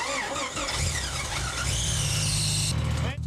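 A Jeep Grand Cherokee engine on an off-road vehicle in the woods catches and revs, a loud rising and falling engine roar with a squealing tone, close by, ending in a sudden cutoff.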